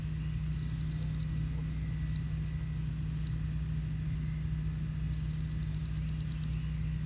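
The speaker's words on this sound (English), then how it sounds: "I can blow the whistle and have him stop again" A high-pitched dog training whistle sounds in short blasts: a trilling toot, two quick chirps, then a longer warbling blast, over a low steady hum.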